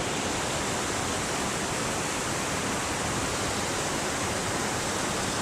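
Waterfall beside a hill path in Glen Etive, a loud, close, continuous rushing roar with no breaks and no voices.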